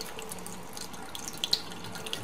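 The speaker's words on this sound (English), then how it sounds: "That is boiling hot water coming out of there." Hot water pouring steadily from the outlet of a homebrew wort chiller during a beer brewing session, a continuous close hiss of flowing water with a few small splashes.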